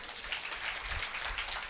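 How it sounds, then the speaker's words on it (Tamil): An audience at a Tamil debate-stage event claps in a dense, steady wash of applause that fills the whole moment without a break. "அன்பு அணிக்கு ஒரு அரங்கு நிறைந்த கைத்தட்டல் கொடுங்க"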